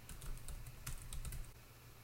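Keys clatter in quick, uneven bursts of typing on a computer keyboard, fairly close and alone with no talk, pausing briefly before a final scattered few strokes.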